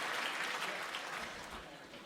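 A darts crowd at the Lakeside youth world championship final bursts into applause and cheering, a dense clatter of clapping that gradually fades away, with no voices.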